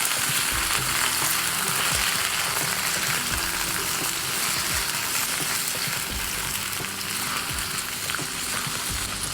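Half a kilo of eggplant cut into long slices fries in a pan with two tablespoons of oil, giving a loud, steady sizzle with occasional stirring clatter and no voice.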